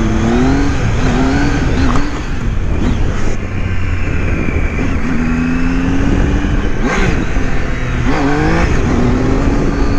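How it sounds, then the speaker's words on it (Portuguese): A motorcycle engine roars close by, revving repeatedly with rising and falling pitch while riding, under constant wind and road noise. "Mano, essa moto aqui é sensacional,"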